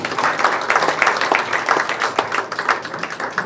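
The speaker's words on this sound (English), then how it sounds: "please give a nice round of applause to Pat Arman" An audience at a county candidate forum bursts into steady, dense applause, with many hands clapping together at close range throughout.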